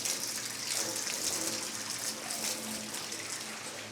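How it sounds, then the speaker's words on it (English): Hot water gushes steadily from a tap into a washing tub in a calf barn, a loud, close, continuous rushing pour. "so then now we'll put a bunch of hot water in there."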